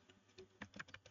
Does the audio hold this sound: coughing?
no